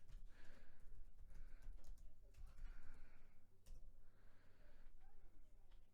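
Fast typing on a computer keyboard during a sports discussion, faint bursts of clicking keystrokes with short pauses between them, heard alone at low level.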